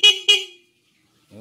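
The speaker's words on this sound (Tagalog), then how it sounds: "Busina." Two short, loud honks of a Skygo King 150 motorcycle horn in quick succession, followed by silence and a brief engine-like tone at the end.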